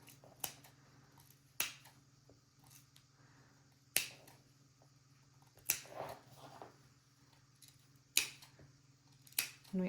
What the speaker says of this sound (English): just make some small snips into the seam allowance